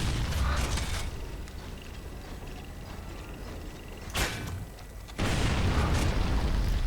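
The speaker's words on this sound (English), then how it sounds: "Use your torp bow and destroy this turret" A turret in Gears of War Judgment is hit with torque bow shots and blows up, a sharp blast rising over constant mechanical rumble and creaking, then a heavier sustained roar of explosion and debris.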